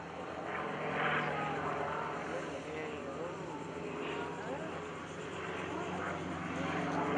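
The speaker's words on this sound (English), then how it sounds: "Watch as he pulls up, smoke is on, and he's going to roll the airplane around." Aerobatic propeller airplane engine droning overhead at an airshow, swelling and fading as it pulls up and rolls with smoke on, with a voice talking over it.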